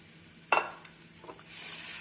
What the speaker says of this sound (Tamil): தேங்காய் பூ சேர்த்து நன்றாக கிளறி